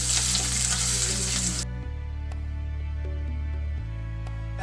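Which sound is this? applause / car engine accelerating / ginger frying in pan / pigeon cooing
ginger frying in pan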